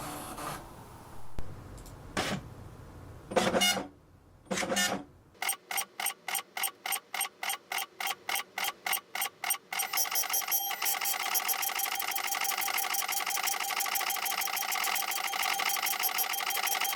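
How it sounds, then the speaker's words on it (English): An Apple ImageWriter II dot matrix printer printing a test page clatters in rapid, regular bursts of mechanical buzzing, then shifts into continuous grinding printing after a few scattered clunks at the start. "you print a test page, make sure printer is turned on"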